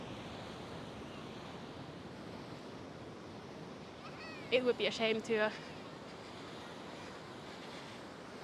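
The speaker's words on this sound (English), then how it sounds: "Look at the waves. I'm just going to show you the waves." Ocean surf washes steadily onto the beach at Kuta, Bali, at sunset, a soft continuous rush with light wind, and a person speaks briefly midway over the waves.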